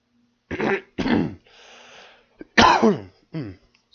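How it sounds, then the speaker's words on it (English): A person coughs and clears the throat at close range during a live video game play session: a few harsh, throaty bursts and a raspy exhale spread over about three seconds, with short quiet gaps between them. "I'm a little coughing there as usual."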